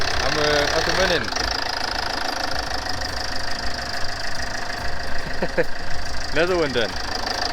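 A Land Rover Freelander 2 with a newly replaced PCV valve ticks over at a steady idle, a continuous mid-level engine hum close by, while someone speaks briefly and a few chirps sound in the background.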